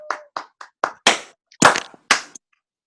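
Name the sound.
round of applause on video conference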